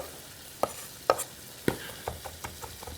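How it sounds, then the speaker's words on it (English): A knife chops chicken gizzards on a board in sharp, separate strikes, roughly one every half second, close and clear over a faint sizzle of searing livers in the background. "I'm just going to continue to chop down these gizzards"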